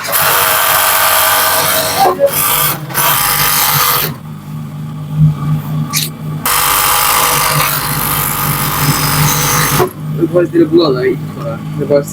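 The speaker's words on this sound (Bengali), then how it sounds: "আমরা যে জয়েন্ট করে নিলাম এই জয়েন্টে কিন্তু ওভারলক করে নিব এখন" An overlock sewing machine stitches a seam on a burqa sleeve in long continuous runs with short pauses between them, close and loud, while a person talks during the breaks.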